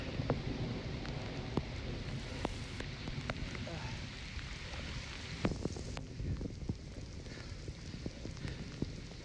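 Steady rain patters throughout, with scattered louder drops and a soft constant wash of noise.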